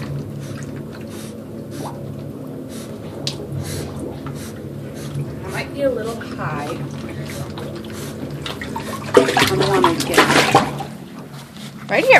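Water splashes and trickles in an underwater treadmill as a dog does rehab therapy, with steady running water and a louder burst of splashing near the end, under frequent nearby talking.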